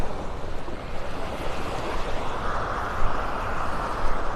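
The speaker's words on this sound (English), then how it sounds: "Kind of walking into the wind here." Wind and surf on Vanderbilt Beach in North Naples, Florida, form a loud, continuous roar of gusting wind buffeting the microphone over breaking waves, with no voices.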